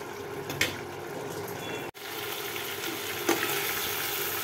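Meat sautéing (kosha) in a pan in its own released water, giving a steady sizzling frying hiss, close and fairly loud, broken by a brief dropout and occasional scraping stirs.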